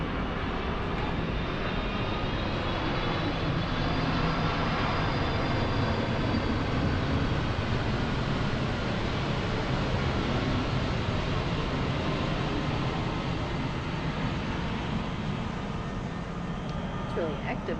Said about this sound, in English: It's really active over here tonight. Helicopters, trains, airplanes.